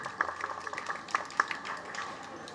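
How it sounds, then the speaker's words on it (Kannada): Audience clapping for the Rotary organisation at an inauguration event for a cleanliness drive, a scattered, moderate patter of hands with a few sharper claps standing out over about two and a half seconds. "ಅವರಿಗೂ ಒಂದು ಚಪ್ಪಾಳೆಯನ್ನು ನಾವು ಕೊಡಬೇಕಾಗ್ತದೆ"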